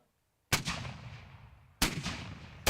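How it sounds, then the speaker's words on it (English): Cannon blasts at a War of 1812 bicentennial reenactment near Niagara Falls: two loud, booming shots, each with a long rolling echo, and the start of a third cut off at the end. "Niagara Falls was filled with the sounds of cannon fire"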